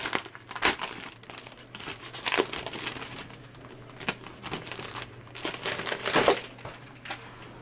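Large 12x12 double-sided scrapbooking paper sheets from a Pink Paislee box are handled, with steady crinkling and rustling that swells in bursts, loud and close with no talk.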